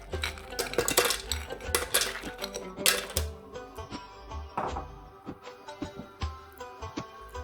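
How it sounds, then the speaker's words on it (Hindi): Hard ice cubes clatter and rattle into a blender jar in a rapid series of sharp clinks, then scattered lighter knocks as they settle. "सबसे पहले मैं ब्लेंडर में आइस क्यूब डालूंगी"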